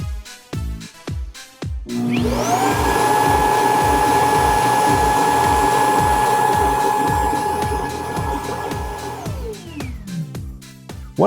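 A Roborock Q10 S5+ robot vacuum runs with a steady, loud motor whine and a blowing hum that ramps up, holds for several seconds and then winds down, with rhythmic clicking before and after.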